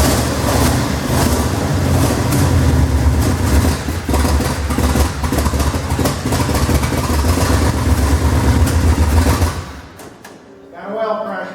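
A long-stored 1960 Chrysler 300F V8 runs loud and rough, apparently without mufflers, in a steady close roar for about ten seconds before cutting out, then briefly sputters again.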